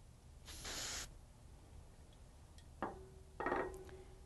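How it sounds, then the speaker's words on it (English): Pro spray adhesive hisses from an aerosol can onto a sublimation image for a shot glass, in two short bursts near the mic with quiet pauses and a faint clink between them. "grab our image and lightly coat it with some pro spray"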